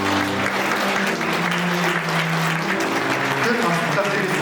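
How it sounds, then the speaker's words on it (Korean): Wedding guests applaud steadily in a hotel ballroom ceremony as family members make their entrance, a dense, continuous wash of clapping with a steady low hum beneath it. "큰 박수 부탁드리겠습니다."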